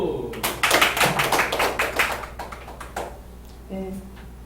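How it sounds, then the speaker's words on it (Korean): Group clapping at a small study gathering, a dense burst of close claps that thins out after about three seconds, with a brief voice near the end. "박수!"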